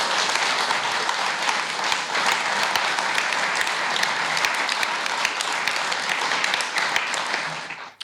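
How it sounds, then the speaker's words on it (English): Sustained audience applause at a COPE Galway 60th commemorative event, a dense steady wash of many hands clapping that fills the room for about eight seconds before tapering off at the end. "I think it deserves a round of applause."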